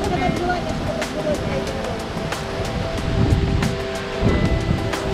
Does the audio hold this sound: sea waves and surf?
yes